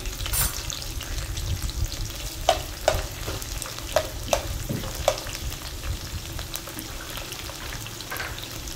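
Onions fry in oil for a tempering, a steady close sizzle broken by several sharp spoon taps and scrapes against the pan, with no voices.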